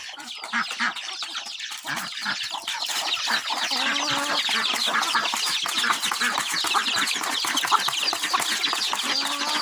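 A flock of chickens on a Thai rice farm in the dry season, dense overlapping clucks and chatter filling the air continuously, close and steady, with a faint rooster crow mixed in and no voices.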